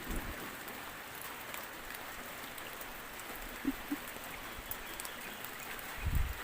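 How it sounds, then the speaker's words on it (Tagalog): Light morning drizzle over Nasipit, a steady soft hiss of fine rain outside a building near the sea, with a few faint louder drops and a brief low thump near the end. "Ayan ang ulan. Umaambon dito ngayon sa nasipit."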